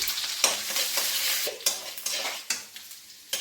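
Chopped garlic and green chilli hitting hot oil in a kadai already used for prawns, a bright continuous sizzle punctuated by several sharp stirring clatters of a spatula against the pan.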